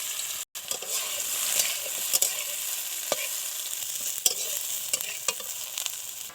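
Soaked soybeans fry in oil in a wok, a loud steady sizzle broken by sharp spatula stirs and scrapes against the pan, with one brief dropout near the start.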